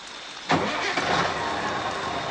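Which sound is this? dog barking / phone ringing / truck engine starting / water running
truck engine starting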